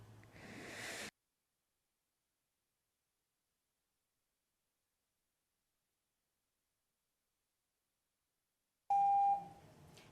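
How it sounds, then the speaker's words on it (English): A single short electronic timer beep at a Board of Education meeting sounds after a long stretch of silence, marking that a speaker's time is up, with brief room noise around it. "that's the beep you'll hear."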